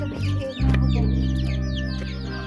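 Chickens cluck in a busy chorus of short, overlapping calls over a steady low hum, close by and fairly loud throughout.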